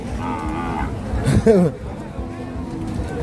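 Cattle at a livestock market, with one loud close moo over steady crowd chatter and vehicle noise, someone speaking nearby.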